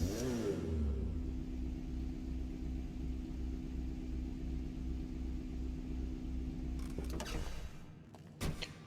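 Karin 190Z, the GTA 5 version of the Datsun 240Z, its engine droning at a steady pulsing idle rev, fairly close, before cutting off near the end with a few short clunks.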